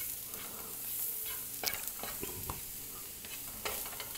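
Shiitake mushrooms sautéing in oil in a frying pan, a steady low sizzle with scattered clicks and scraping stirs of a utensil against the pan, no voices.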